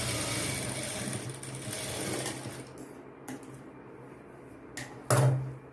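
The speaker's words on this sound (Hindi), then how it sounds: "अब मैं इसमें यहाँ पर सिलाई लगा लूँगी" An electric sewing machine stitches blouse fabric for an open-back blouse's hook portion, a close, steady whirring run that stops after a few seconds, followed by light handling clunks and a brief final buzz.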